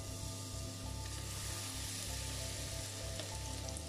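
Pineapple fritters fry in hot oil with a dense, continuous bubbling sizzle, steady and fairly faint, with no voices.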